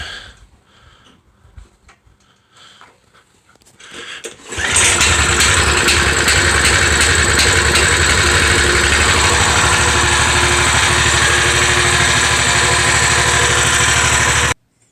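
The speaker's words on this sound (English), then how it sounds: "I guess I should do a cold start here." A modified Coleman BT200X mini bike's small engine fires on a cold start after a few pulls and clicks, then settles into a steady, loud, buzzing idle that runs close by for about ten seconds before cutting off abruptly.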